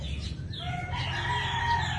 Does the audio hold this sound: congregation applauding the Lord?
no